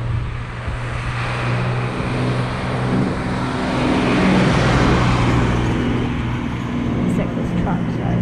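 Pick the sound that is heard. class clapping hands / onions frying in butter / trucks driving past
trucks driving past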